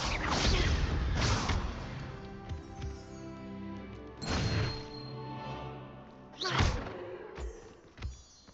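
Spell impacts and blasts from the Confringo fire spell in the Hogwarts Legacy video game, with several loud thumping bursts and whooshes at intervals over a bed of game music.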